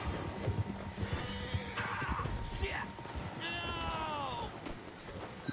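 A horse in the video game Red Dead Redemption whinnies a couple of times amid hoofbeats and chase noise. Excited voices talk over the neighing throughout.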